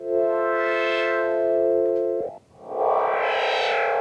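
Oberheim OB-6 synthesizer patch with the second oscillator cross-modulating the first oscillator's pitch, LFO off: a steady, buzzy sustained tone that briefly dips, then returns as a brighter, grittier, warbling timbre, played alone.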